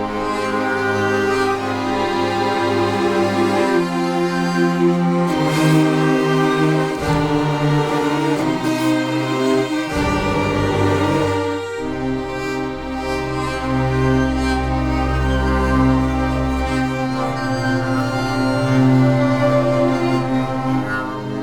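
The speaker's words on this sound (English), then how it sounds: "So here we have violin, viola, cello and bass" Sampled orchestral strings of violin, viola, cello and bass play sustained layered chords from low bass to high violins, full and continuous with no talking.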